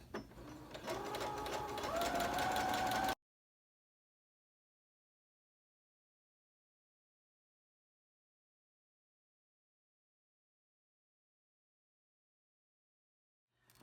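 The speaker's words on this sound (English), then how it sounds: "Go ahead and begin sewing and backstitch" A sewing machine stitches and backstitches a seam on a high-low wrap coat dress, a close, steady motor hum that shifts pitch briefly before stopping abruptly after about three seconds, followed by long silence.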